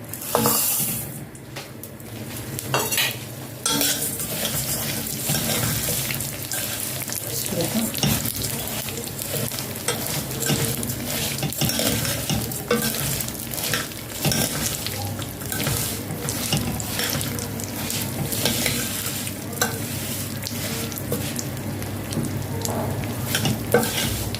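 Steady sizzling of vermicelli frying in hot oil with occasional scraping and stirring, continuous throughout and no talking.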